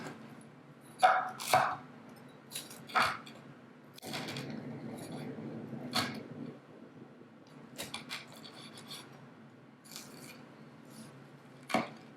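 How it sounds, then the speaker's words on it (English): A knife slices through seitan to cut BBQ ribs, a series of irregular thuds and cuts against a board with some scraping and handling noise between strokes, no talking. "we're going to cut these into our ribs"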